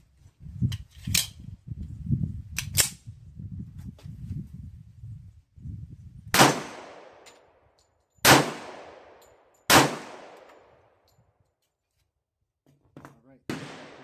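A restored 1954 Colt 1911 pistol, previously over-lubricated and failing to eject, fires three loud, sharp shots a couple of seconds apart, each with a decaying echo. Talk and handling noise come first, then faint clicks afterward.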